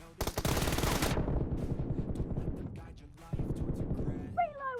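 Bursts of machine gun fire in PUBG Mobile, a loud volley at the start followed by lighter shots and a second burst, with a voice speaking briefly at the end.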